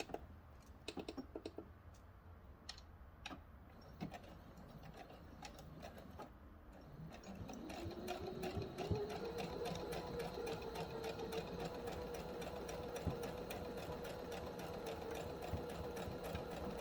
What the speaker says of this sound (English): Ready for the forward stitch. And then we're going to back stitch.